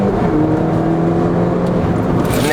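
A Mini Cooper GP accelerates hard from a rolling start, its engine and road noise loud and close from inside the car, pitch climbing steadily through the gears.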